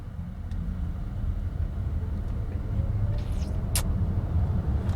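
A Volkswagen ID.4 electric car accelerating in sport mode, heard from inside as a steady low road rumble and tire noise that builds slightly, with faint high-pitched tones near the end.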